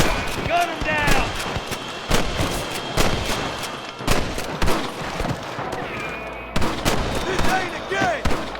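Repeated gunshots in Red Dead Redemption, sharp loud cracks scattered irregularly throughout, overlapping with shouting voices and battle noise.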